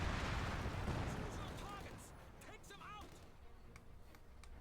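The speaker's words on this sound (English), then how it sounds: "the entire area explodes under a voluminous artillery barrage of death" Artillery barrage in Company of Heroes 2, a dense rumbling roar of distant explosions that fades slightly, with scattered battle noise and a voice talking over it.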